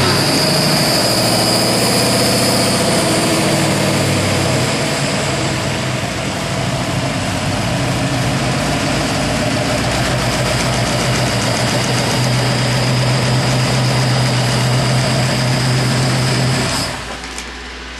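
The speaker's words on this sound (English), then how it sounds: "I'm going to show you how fast this engine starts up with this MSD fuel injection, Atomic EFI." A Ford 302 V8 fitted with MSD Atomic EFI fuel injection fires up and settles into a loud, steady idle close by, then shuts off near the end.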